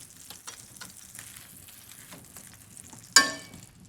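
Salmon fillet sizzles skin-side down in a hot pan. A soft, crackling fry runs throughout, then a sudden loud hiss flares near the end and fades.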